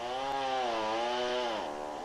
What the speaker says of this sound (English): as she hollows out the center of the bowl with her chainsaw